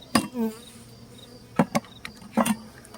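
Honey bees buzzing around queen mating boxes in an apiary, a few close passes droning in and out over a quiet background, punctuated by sharp knocks and taps from handling the boxes.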